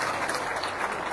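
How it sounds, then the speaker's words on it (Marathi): Crowd applause at a large statewide community meeting, a dense steady clatter of many hands clapping together throughout the brief moment. "टाळ्या वाजा त्याला."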